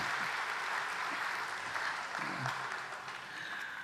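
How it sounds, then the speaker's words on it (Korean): A church congregation applauds steadily throughout, a fairly soft, even wash of clapping in a large room. "자, 우리 한번 먼저 박수해 주시고"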